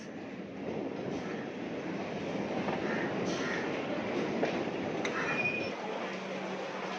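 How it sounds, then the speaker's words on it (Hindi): A local train bound for Tambaram rumbles steadily into a Chennai station, a continuous low clatter of wheels with faint squeals, moderately distant. "वो रहे तांबरम के लिए ट्रेन पे आ गई, लोकल ट्रेन।"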